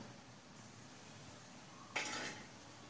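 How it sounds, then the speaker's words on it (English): Roasted duck, Kuttanad style, scraped from a pan into a serving bowl, giving a short burst of metal-on-metal clatter near the end after a quiet stretch. "So now we are transferring the stuff to a serving bowl."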